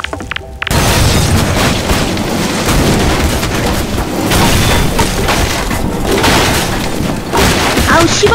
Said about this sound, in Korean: 폭탄 설치하고 폭발시켜야지